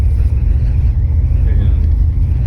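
A 1986 IROC-Z idles and rolls slowly while turning around on pavement, a low steady engine rumble heard close from inside the car as someone talks over it.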